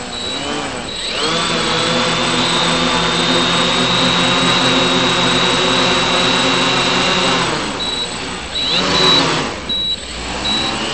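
Multiwii octocopter on a gyro-only setup during a test run, eight electric motors whining in a loud sustained tone that dips and swells as the throttle changes.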